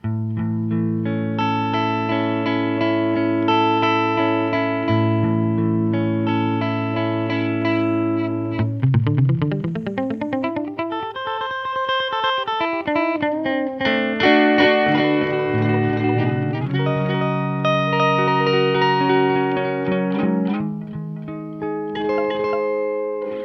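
A distorted electronic tone passes through the stereo delay of a TC Electronic 2290 effects unit, its crossing repeats echoing and sweeping up and down in pitch, sustained and fairly loud, with no talking.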